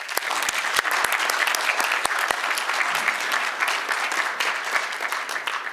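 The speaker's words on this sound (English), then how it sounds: "So maybe we could give them a round of applause." An audience at a talk on US-China relations gives a warm round of applause, a loud, continuous patter of many hands with a few sharp nearby claps standing out early on.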